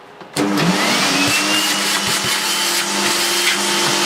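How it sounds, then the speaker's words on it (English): A new Dirt Devil DD6102 vacuum cleaner starts abruptly and runs loud and close, its motor whining over a steady rush of suction air, with a few faint bumps and knocks of handling underneath. "Let's test the suction."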